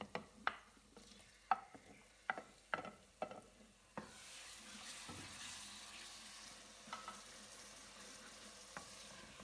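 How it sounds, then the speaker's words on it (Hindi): Chopped garlic frying with onions in a pan for an aloo gosht curry, first a few sharp stirring clatters, then a steady close crackling sizzle that continues to the end. "लहसुन डाल के मैं भून रही हूँ"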